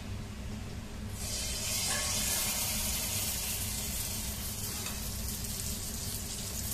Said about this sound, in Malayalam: അപ്പോൾ നമ്മുടെ ഓയിൽ ചൂടായിട്ടുണ്ട് നമുക്കത് ഒരു സ്പൂണിൽ എടുത്ത് കുറച്ച് കുറച്ച് ഒഴിച്ചു കൊടുക്കാം